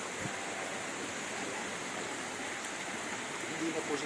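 A clear mountain stream in the highlands of Kitomas flows with a steady, soft, broadband rush that stays even throughout, quiet and continuous with no distinct splashes.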